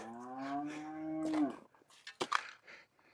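A calf on a snowy winter homestead gives one long, drawn-out moo at close range, followed by a few short snuffles and nibbling noises, with no voices.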